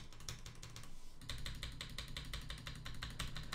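An Aqirys Adara mechanical keyboard clacks under quick, steady key presses, with stabilized keys rattling among them; crisp, close, rapid typing with a brief lull before resuming.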